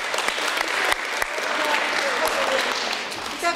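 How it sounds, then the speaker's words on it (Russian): Concert audience applause at the Zhar-Ptitsa 2017 event in Tarkhany, loud, dense clapping from a large crowd with a few sharp louder claps and some voices mixed in. "Еще раз аплодисменты!"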